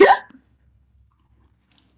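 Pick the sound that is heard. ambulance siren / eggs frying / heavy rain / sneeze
sneeze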